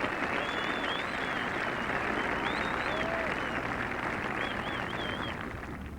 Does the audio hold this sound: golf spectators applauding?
yes